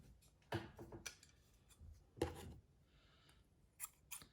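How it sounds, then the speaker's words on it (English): Scissors snip through crochet yarn while a granny square top is being finished, giving a few crisp, close cuts at separate moments over a quiet room. "Just cut the yarn and fix our loop."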